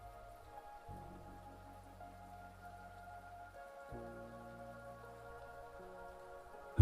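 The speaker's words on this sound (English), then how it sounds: "Listen to the rain." Steady soft rain falls on a surface, a low and even wash of drops with a quiet hum and tones layered beneath it, no voices present.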